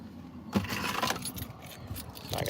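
A set of keys jangles in a rustling grab, with small metallic clinks spread across a couple of seconds, close and fairly loud, as someone heads out to a truck for bass fishing at a pond.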